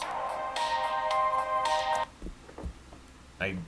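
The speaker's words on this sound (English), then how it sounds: "Just got another notification." A melodic electronic notification chime on a phone plays several bright repeated notes, followed by brief clicks and a short electronic blip, with no talk over it.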